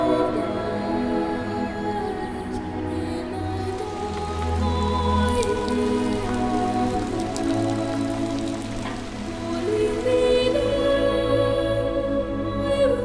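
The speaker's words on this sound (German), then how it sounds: "Da war er dann am nächsten Tag, der Regen" Steady rain at Milford Sound, New Zealand, dripping and pattering on nearby surfaces, continuous and fairly loud throughout with no voices.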